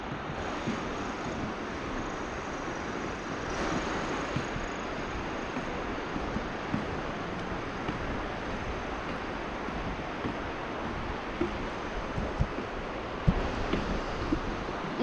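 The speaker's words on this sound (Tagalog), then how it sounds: "sarap pakinggan yung tunog ng ano river" River water flows in a steady, loud rushing wash outdoors among farm fields, continuous throughout with some wind-like roar and no voices.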